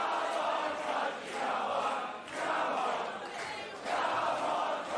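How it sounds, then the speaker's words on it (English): Wrestling arena crowd at Pro Wrestling Australia's In a Cage event singing together in swelling, chant-like waves, loud and dense with three rising surges, no clear talk over it. "This crowd sings these days"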